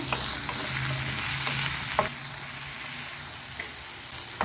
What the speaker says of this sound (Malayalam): ഇതിലേക്ക് നമ്മൾ എടുത്തു വെച്ച കിഴങ്ങിട്ട് കൊടുക്കുക ആദ്യം നല്ലപോലെ മിക്സ് ചെയ്ത് കൊടുക്കാം